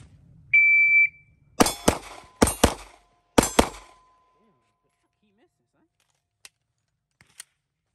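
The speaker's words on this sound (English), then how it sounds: "All right, 2 shots on each target." Glock 19X pistol fired at targets on a range, two shots per target: after a short electronic beep, three close pairs of sharp, loud shots ring out with brief gaps between pairs, then near silence.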